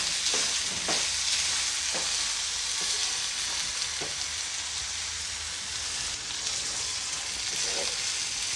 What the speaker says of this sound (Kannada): ಇವಾಗ ಇದನ್ನು ಒಂದು ಮೂರು ನಿಮಿಷದವರೆಗೂ ಚೆನ್ನಾಗಿ ಫ್ರೈ ಮಾಡ್ಕೋಬೇಕು